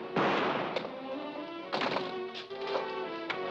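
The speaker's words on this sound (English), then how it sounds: "Fire two shots. That's a signal" Two sharp gunshots fired as a signal in a 1940s film noir, each a loud close crack with a short decay, followed by smaller knocks and thuds.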